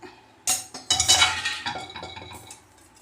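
A spoon clatters and scrapes in a metal pot as cooked sago is folded into moong dal for payasam, several bright clinks and stirring strokes close by, with no talking.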